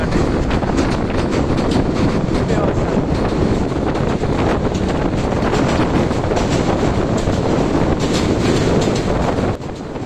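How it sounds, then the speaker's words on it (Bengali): The Upakul Express crosses a bridge with a loud, continuous rumble and rattle, close and heavy, with wind buffeting the microphone the whole way and a brief drop in level near the end. "ট্রেনের ব্রিজের মধ্যে ঝকঝক ঝকঝক শব্দটা খুবই বাজে ধরনের মনে হয়"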